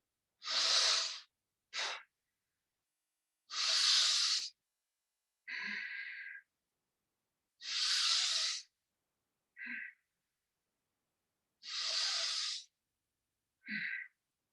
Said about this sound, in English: breathe in faster and breathe out gently